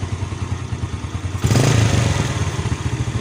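Motorcycle engine idling close by, fitted with an added 3300 µF 50 V capacitor, a loud, steady, lumpy rhythmic putter that briefly swells with a clattering thump partway through.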